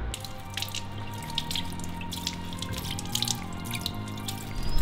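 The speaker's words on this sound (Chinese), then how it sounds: "现在我们洗一下青菜" Tap water runs steadily into a kitchen sink as leafy greens are washed, a close, continuous splashing hiss with small drips and handling noises.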